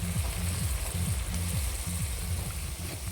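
Turmeric and dried chilli powder frying in oil with a splash of water for a cauliflower curry, giving a steady, close sizzling hiss that runs unbroken from start to finish.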